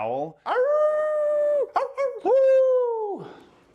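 A person imitates a dog howl with two long, sustained wavering cries separated by a short break, loud and close.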